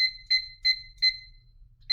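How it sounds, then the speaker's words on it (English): A kitchen-style timer gives four short, sharp electronic beeps at an even, quick rhythm, then one more after a pause. The beeps are clear and close against a near-silent room. "So I'm going to set my 10 minutes onto my timer"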